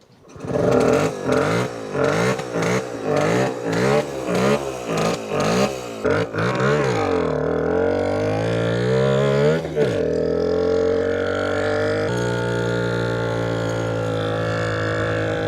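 NSU Quickly moped engine pulling up a long uphill road in second gear, a close, buzzy two-stroke drone that surges in rapid pulses at first, then holds a strained, steady rising note.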